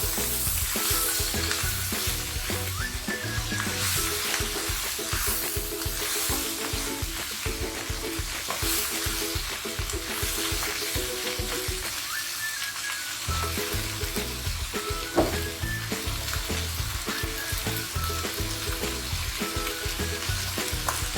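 A vegetable filling for a vegetarian shepherd's pie sizzles loudly in a pan while being stirred, with a constant crackling fry and rhythmic scraping of a utensil, close and uninterrupted.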